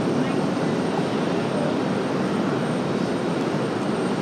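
Envoy Embraer E170 airliner, twenty years old, arriving from Chicago: a steady, loud broadband jet engine roar holding level and continuous throughout.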